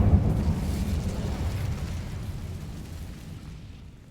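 Incendio fire spell from the Hogwarts Legacy video game bursting with a loud low whoosh of flame that rumbles on and slowly fades away.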